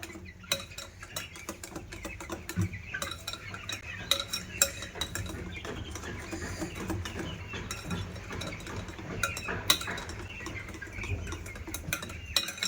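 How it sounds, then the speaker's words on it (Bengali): Eggless sponge cake batter is whisked in a bowl with a steady, rapid metallic clatter and scraping that runs on continuously, close up and fairly soft. "দেখো ভালো করে ফেটিয়ে নিয়েছি"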